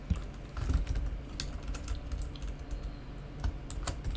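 Django code is typed on a computer keyboard in quick, irregular bursts of close key clicks, with short pauses between groups of strokes.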